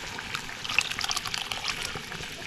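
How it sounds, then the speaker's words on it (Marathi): Water splashes and trickles steadily against a metal pressure cooker for a couple of seconds, a close, bright rinsing sound with no voices. "आपल्याला हा कुकर वगैरे असा धुवून टाकायचा पाणी हे बघा"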